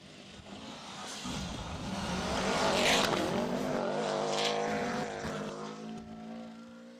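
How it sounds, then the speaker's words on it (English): A rally car engine roars past on a hill climb, swelling louder to a peak then fading, its revs rising and falling as it climbs. "We'll let you listen to this thing roar its way up the hill"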